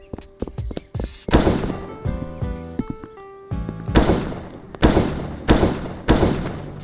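AK rifle shots in the mobile game A Long Road, a few sharp bursts spaced apart among thuds and clunks, fairly close and punchy with no talking.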